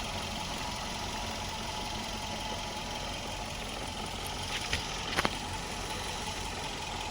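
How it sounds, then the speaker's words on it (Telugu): A 2014 Maruti Swift Dzire VXI CNG engine idles quietly with a steady hum under a broad, even noise floor, with a couple of faint clicks partway through. "ఇంజిన్ అయితే స్టార్ట్ చేసే ఉందన్న, కానీ ఎక్కడ మనకి అంత సౌండ్ కూడా లేదు"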